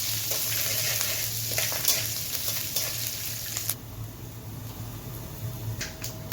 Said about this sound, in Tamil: எல்லாத்தையும் சேர்த்து நல்லா வதக்கிக்கோங்க.